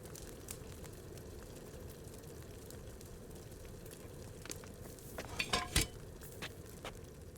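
Grinding eyebright for alchemy in Kingdom Come: Deliverance 2 brings a few soft scraping and clinking sounds that build into a brief louder clatter, over a steady low room hum with no talking.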